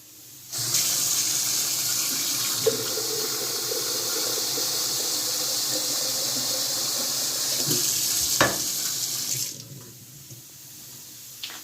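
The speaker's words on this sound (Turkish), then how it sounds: "Şuradan da azıcık su koyayım." Steady broadband rush of water running from a tap into a sink, continuous for about nine seconds before shutting off, with a few faint clinks.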